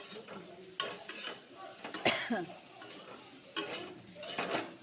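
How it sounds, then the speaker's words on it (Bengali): Ground cumin and coriander powder frying in a pan with leaves and potatoes, close and moderately loud, with irregular stirring scrapes and utensil knocks over a soft sizzle. "একটু হালকা ভেজে নিব এখানে জিরার গুঁড়ো ধনা গুঁড়ো দিয়ে দিব"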